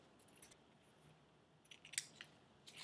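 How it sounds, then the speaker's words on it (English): Scissors snip along a fabric edge to cut a thin ribbon strip, a few quiet, close crisp cuts clustering toward the end against a near-silent background. "I'm going to cut it really close to the edge, almost just 1/4 of an inch"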